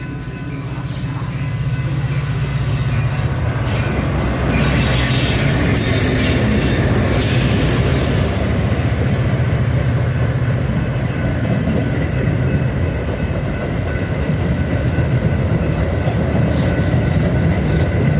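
A commuter train bound for McHenry rolls into a suburban station at Palatine or Barrington with a loud, continuous rumble and grinding wheels, screeching brakes rising briefly while a station announcement plays faintly beneath.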